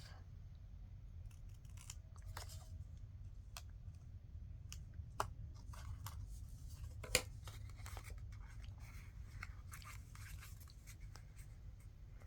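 Scissors trimming paper for a mini envelope, a series of faint, sparse snips and small clicks over a low steady hum, no talking.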